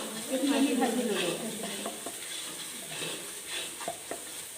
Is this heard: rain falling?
no